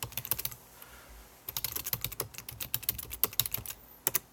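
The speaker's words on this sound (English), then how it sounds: "I'm just typing something here and real fast." Fast typing on a computer keyboard, a dense run of sharp clicking keystrokes with a short pause before the second burst, close and clear with no voices.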